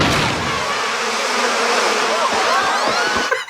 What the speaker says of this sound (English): And they hit it over, and it's like dangerous killer bees or something.